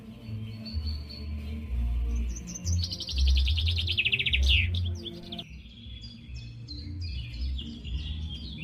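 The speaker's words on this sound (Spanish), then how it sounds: "dejemos que el canto apasionado de las aves inunde nuestros oídos" Birds sing in a forest, with bright chirps and a rapid trilling run in the middle, then scattered tweets over a low background murmur.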